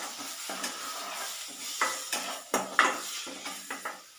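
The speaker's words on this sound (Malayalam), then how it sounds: "ഇതിൻ്റെ പച്ചമണമൊക്കെ ഒന്ന് പോയി കിട്ടാൻ വേണ്ടി നല്ലോണം ഇളക്കി കൊടുക്കാം." A spoon stirs and scrapes masala with curry leaves in a frying pan for a squid roast, making faint sizzling broken by a quick series of close, rhythmic scraping strokes against the pan.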